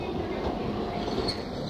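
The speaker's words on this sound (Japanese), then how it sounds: "まもなく1番線に急行富原行き列車が参ります。" A Japanese express train rolling into a station platform, a low steady rumble of wheels and carriages with a brief high squeal near the end, moderately close and without any announcement over it.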